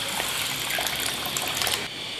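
Water gushes steadily into a pot for sugar syrup, a close, even splashing pour that lasts about two seconds and then stops.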